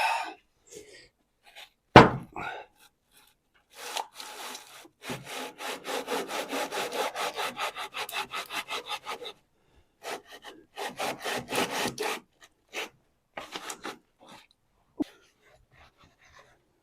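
Rhythmic back-and-forth hand sanding of wood in quick strokes, in bursts separated by pauses, close by, with a sharp knock near the start.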